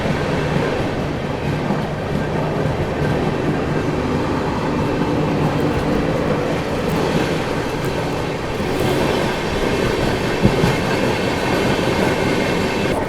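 Gitanjali Superfast Express rushing past Manmad Junction at high speed, a loud continuous roar of rail wagons with rumbling wheels and faint clatter, steady and close throughout with no speech.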